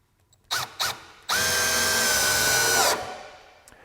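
A Milwaukee drill in its high-speed setting drives a framing screw: two short trigger blips, then a loud, steady whine that holds for about a second and a half before cutting off and winding down.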